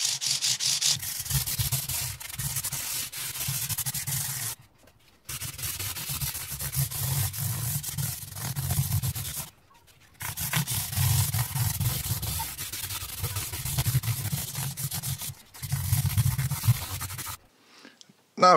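Frets on a Squier VM Thinline Telecaster being sanded with wet and dry abrasive paper, a steady close rasping rub in long even passes broken by short pauses, with no talk.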